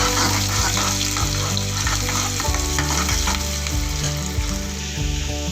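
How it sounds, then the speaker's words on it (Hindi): Onions crackle and sizzle in hot oil, a dense, continuous frying hiss with small pops, heard up close and steady throughout. "ये प्याज को थोड़ा सा हम भून लेंगे ब्राउन होने तक।"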